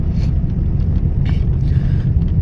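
A steady, loud low engine rumble fills the inside of a car on a road, with no voices.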